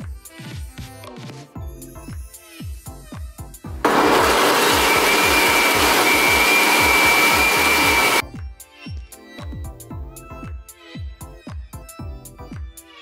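A blender whirs loudly and steadily for about four seconds as it mixes fit cake batter, with sparse kitchen knocks and clatter before and after the burst.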